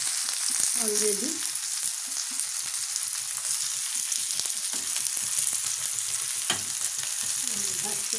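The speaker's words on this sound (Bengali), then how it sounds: "এখানে আমি ভাজতে শুরু করে দিয়েছি" Fish fries in a pan with a steady, close sizzling hiss, a few soft stirring or scraping touches, and a brief spoken word over the crackle.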